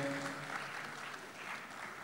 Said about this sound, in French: Applaudissons-les. Les lauréats, tous les lauréats, s'il vous plaît.